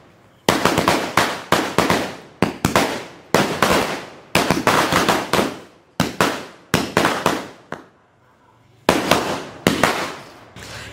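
Sivakasi thadapuda firecrackers tied together burst outdoors in rapid crackling volleys, loud and close, each string rattling off a fast chain of sharp bangs, with brief pauses between bursts.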